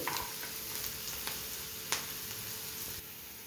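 Onions and green chillies with chilli powder fry in a pan for a vegetable egg palya. A soft, even sizzle runs throughout, broken by a few light clicks and taps, and there is no talking.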